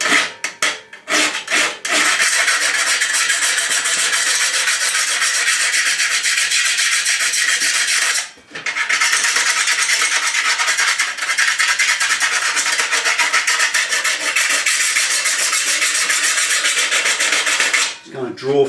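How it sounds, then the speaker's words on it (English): Close, loud rasping as a file is draw-filed along a metal bash plate to smooth out tooth marks. A few choppy strokes open into a long, continuous scrape with one brief break midway. "Just kind of draw filing all the teeth marks out."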